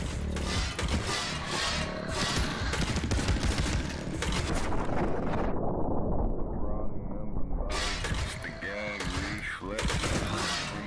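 Gunshots fired in slowed bullet time in El Paso, Elsewhere, a dense barrage of heavy pops and roaring blasts amid loud game noise and music, with talk over parts of it.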